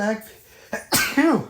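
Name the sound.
sneeze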